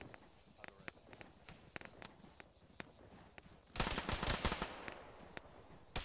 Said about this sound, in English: Where's that shot coming from?